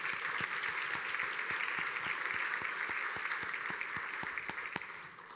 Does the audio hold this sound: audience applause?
yes